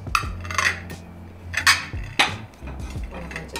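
Ceramic plates, including plain white ones, clink and knock as they are set down on a table, several light impacts in succession at close range.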